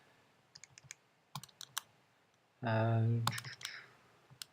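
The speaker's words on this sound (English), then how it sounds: "I'm going to type that in and calculate it" Numbers are tapped into a calculator as a scattered series of light, close clicks. A short stretch of speech interrupts the taps before a few more presses follow.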